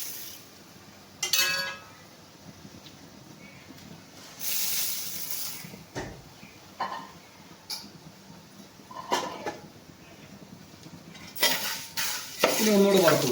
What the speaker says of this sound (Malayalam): ആ കണ്ണങ്കായ ഉണങ്ങിയതും അതിനോടുള്ള അനുബന്ധിച്ചുള്ള പ്രോഡക്റ്റുകളുമാണ് ഇപ്പോൾ നമുക്ക് ഈ ചട്ടിയിലേക്ക് വെച്ച് ചൂടാക്കിക്കൊണ്ടിരിക്കുകയാണ്